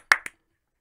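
Two quick, close hand claps in a row, sharp and alone, clapping along to a song.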